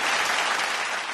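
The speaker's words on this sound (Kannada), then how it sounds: "ಅದಕ್ಕಾಗಿ ಒಂದು ಚಪ್ಪಾಳೆ." Studio audience at a Kannada television talent show bursts into steady, dense clapping that stays loud and even from start to end, with no talk over it.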